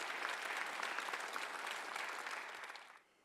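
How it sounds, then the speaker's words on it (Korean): A church congregation at a Sunday worship service claps hard in unison, a dense, even roar of hands that holds steady, then drops off abruptly near the end. "박수 좀 세게 쳐봐요"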